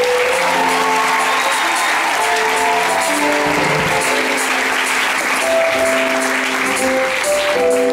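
A concert audience at a church choir concert breaks into loud, sustained applause that continues for the whole stretch, dense and close, with a choir's held tones sounding through the clapping.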